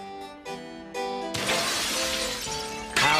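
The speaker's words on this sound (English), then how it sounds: "How Josiah Reeks's life's work had been smashed by careless children" Pottery smashing, a loud crash with scattering fragments that sustains for over a second, following several sustained tonal musical notes and ending with another sharp bright impact.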